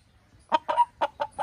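A young rooster gives five quick, close clucks in a short uneven series, clear and fairly loud against a quiet background.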